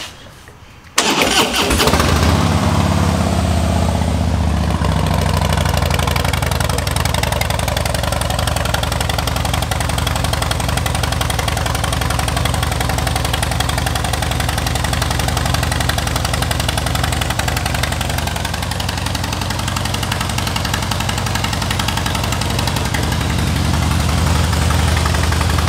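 A 2016 Harley-Davidson Heritage Softail motorcycle with a Tilting Motor Works trike conversion cranks and fires after a brief quiet moment, then settles into a loud, steady, close idle rumble that holds unbroken to the end, with no voices.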